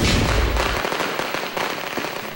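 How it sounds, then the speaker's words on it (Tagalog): Dense crackling bursts of firecrackers and fireworks during New Year's Eve celebrations, loud and continuous, with a heavy low boom at the start fading into scattered pops and crackles. "Putukan dito."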